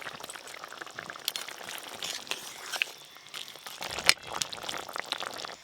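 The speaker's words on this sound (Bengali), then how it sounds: "টক তো ফুটে গেছে ভালো করে" Sour shrimp and eggplant curry simmering in a pot over very low heat, giving a soft, steady bubbling and faint liquid crackle throughout, with a few small clinks near the end and no talking.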